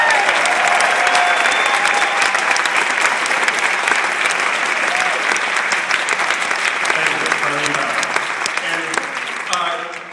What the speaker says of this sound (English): could you clap for Carlene?